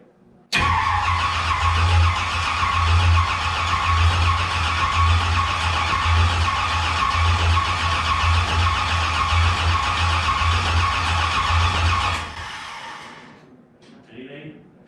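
A 1973 Javelin AMX engine starts suddenly and runs loud and steady at a rough idle for about twelve seconds, then shuts off and dies away, recorded close with no talk over it.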